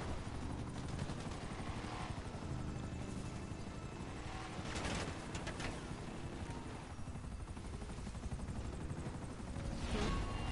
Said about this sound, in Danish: Og så kommer der også helikopter og alt muligt,